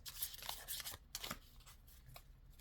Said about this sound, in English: Give this another good shuffle.